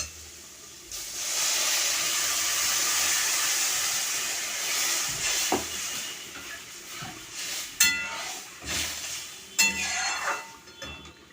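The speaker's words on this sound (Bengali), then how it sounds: "এবার আমি জল দিয়ে দিচ্ছি" Water poured into a hot pan of fried karmi shak greens sends up a loud steaming hiss that fades into bubbling and spatter, broken by several metallic clinks of a utensil against the pan.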